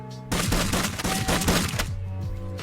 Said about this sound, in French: Le truc il lance des patates.